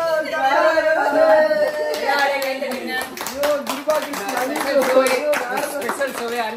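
A group claps loudly and steadily at a birthday celebration, the applause running throughout with voices talking and calling out over it.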